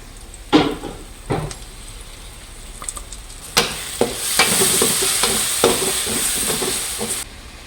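Onions sautéing in a pan while being stirred, with steady sizzling and several sharp scraping stir strokes, the frying noise swelling louder through the second half.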